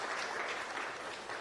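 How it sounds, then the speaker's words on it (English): Crowd applause at a high school fantasy draft event, a dense, even wash of clapping that holds steady for a second and a half. "Round of applause."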